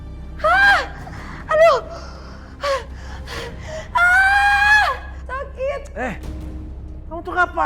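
A woman gasps and cries out in repeated loud, strained vocal bursts, with one long sustained scream in the middle, heard close and alone over a low steady hum.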